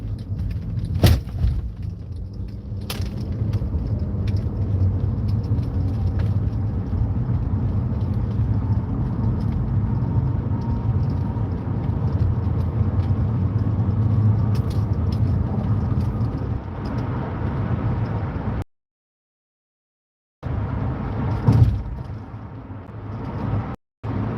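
A car rolls over rough, potholed city streets with a steady low road rumble and occasional thumps and knocks, close and continuous, dropping out briefly near the end.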